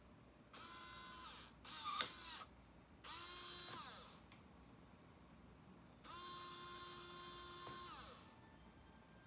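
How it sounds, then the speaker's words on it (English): Small hobby motor driven through a micro:bit over Bluetooth whirs in short high-pitched bursts, switching on and off several times with brief spin-downs between, quiet and close. "in order to turn on the motor"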